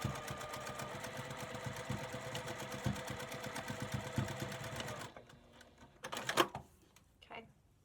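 Sewing machine stitching a seam on a scrappy log cabin pillow, a steady fast mechanical whir for about five seconds, then stopping, followed by a few soft handling knocks and rustles.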